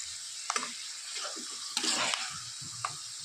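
Peanuts fry in hot oil in a pan for Kolhapuri chivda, giving a soft, steady sizzle broken by a few scraping stirs and clinks, close and fairly quiet.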